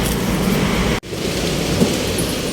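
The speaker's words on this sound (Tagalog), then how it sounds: "Umuulan guys." Steady, heavy rain pours continuously in Baguio, a dense even hiss with a brief break in the middle.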